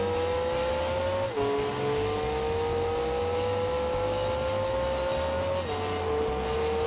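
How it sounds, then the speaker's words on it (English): Car engine in the Gran Turismo PSP racing game, a loud, steady synthetic drone that holds its pitch and drops sharply at two gear shifts, with no talking. "car sound is not good"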